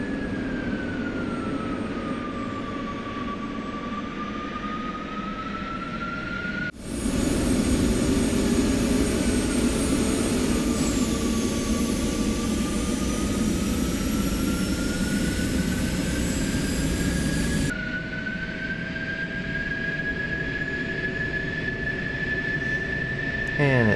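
An F-16 jet engine in DCS World spools up toward idle, a steady loud whine with rising and falling tones over a constant roar, with a sudden louder section in the middle.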